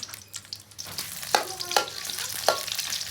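Onions fry in oil in a pan for a broiler chicken curry cooked on a clay stove, giving a close, steady sizzle. A few sharp utensil scrapes and clinks stand out, and no one talks.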